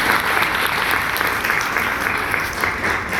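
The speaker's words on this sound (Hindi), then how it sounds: "जोरदार तालियां हो जाए कि जो इतना कर रही हैं।" An audience at a Delhi government school event breaks into loud, dense applause. The clapping from a crowd stays steady and continuous throughout.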